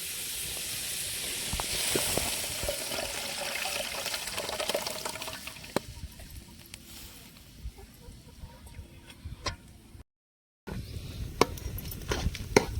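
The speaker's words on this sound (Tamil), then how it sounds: "இப்போ ரத்தத்தை உள்ள ஊற்றிக்கலாம்" Goat blood poured into a hot pan of cooked goat intestines in a village-style fry, a steady soft hiss and sizzle with faint scraping and clinks, briefly cutting out before resuming.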